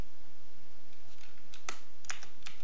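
Code typed on a computer keyboard in Visual Studio: a few crisp key clicks in a short burst near the end over a steady background hiss, with no talking.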